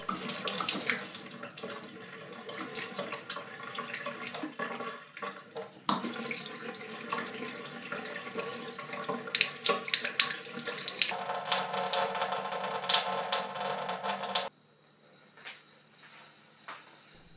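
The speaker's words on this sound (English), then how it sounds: "open a faucet and allow it to completely drain" Water runs steadily from a faucet into a sink while a newly installed reverse osmosis filter tank drains, a continuous splashing rush that changes tone partway and then stops, leaving near silence.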